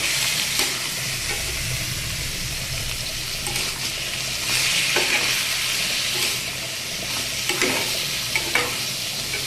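Boiled greens tipped into a pan of frying vegetables for a vegetarian dish, with a steady close sizzle and repeated scraping stirs of a spoon throughout.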